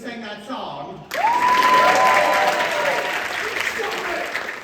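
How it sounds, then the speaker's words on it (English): Theater audience applause at a St. Louis stage musical, a dense sustained clapping wash that swells in loudly and holds, with cheers and a rising whoop over it. "Now clap for me."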